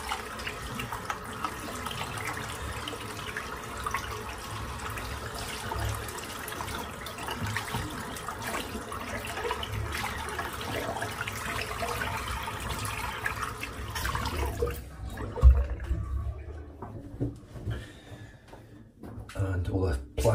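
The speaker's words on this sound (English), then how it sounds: "rinse the soap out" Water runs steadily from a tap to rinse soap out of a Semogue boar-badger shaving brush, a continuous rushing wash for most of the span before it cuts off, leaving quieter room sound.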